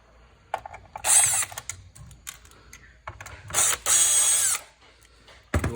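Screws being removed from the transformer of a CD1500P ozone generator with a power driver, which gives two loud whirring bursts close by, separated by quieter clicks and handling noises.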